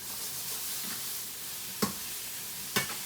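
Eggplant with cheese frying in a pan, a continuous bright sizzle with two sharp clacks of a utensil against the pan, no voices.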